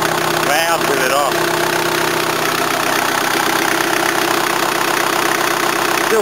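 Old Toyota engine running with the exhaust pipe off, a loud raw rumbling idle that carries on steadily throughout, close to the microphone.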